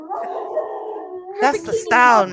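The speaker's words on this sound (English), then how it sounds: "You hear the dog? That was awesome." A pet dog howling at home, a long rising and wavering howl that breaks into higher yips toward the end, heard close under and between a person talking.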